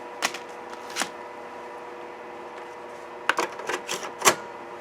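A floppy drive tries to write with no disk inserted, giving a few short mechanical clicks and clattering seeks against a quiet electronic hum, with no talking.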